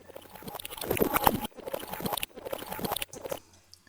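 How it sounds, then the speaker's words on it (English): Recording from the Ribs granular synth, a crackly, grainy texture of fragmented bursts in three or four short sections separated by sudden cuts, fairly faint. "I've got a recording from a granular synth called Ribs"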